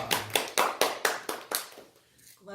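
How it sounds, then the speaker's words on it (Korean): Audience at a Korean seminar on wealth-building tips claps to welcome a speaker to the stage, a few sharp, loud, spaced claps that quickly thin out and stop, ending in near silence. "박수로 맞이하겠습니다"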